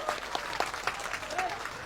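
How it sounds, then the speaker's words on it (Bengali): A crowd at an iftar gathering claps for party volunteers, a brief burst of dense, close applause with voices mixed in. "সবাই আমরা একটা তালি দেই ভাই সবাই পিছিয়ে একটু জোরে তালি দেন"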